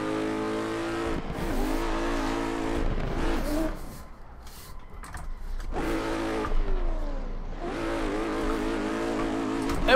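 A car in a racing sim game revs hard and whines through high-speed drifting and a 360 spin, engine pitch climbing and dropping with a brief lull between loud, sweeping passes.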